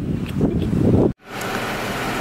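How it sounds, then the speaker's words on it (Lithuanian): Strong wind and rain buffet the microphone with a loud, rushing roar, cutting out abruptly for a moment before the steady gusting noise returns. "nes lyja ir didelis vėjas"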